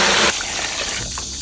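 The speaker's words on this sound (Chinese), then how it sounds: "加水" Water gushes from a tap into a cooking pot holding a beef leg, with a loud, brief rush that quickly eases into a softer splashing flow.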